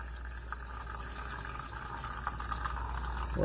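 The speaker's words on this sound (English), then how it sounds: "So in goes the water." Water pours steadily into a steamer pot for Korean mandu as a continuous close rushing splash that holds for several seconds and swells slightly toward the end.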